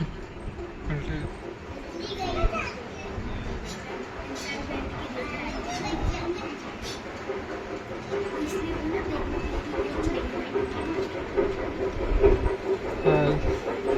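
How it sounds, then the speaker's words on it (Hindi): A miniature model train rolls along its tracks in a miniature railway museum in India, a steady rumble with light clicking, while someone narrates over it the whole time. "रेलगाड़ी धुआं छोड़ते हुए तेजी से आ रही है।"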